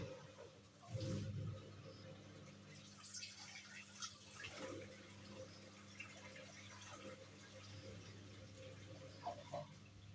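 A twin tub top load washing machine draining its water, a quiet running trickle with scattered drips and bumps above a low steady hum.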